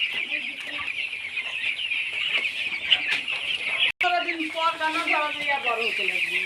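Newly brought-in broiler chickens on a farm cluck continuously as a dense, close flock, with a brief drop-out midway and busier overlapping calls afterward.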